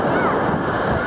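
Ocean surf rushes loudly onto a beach at Corolla on the Outer Banks, a continuous roar of breaking waves mixed with gusty wind noise on the microphone.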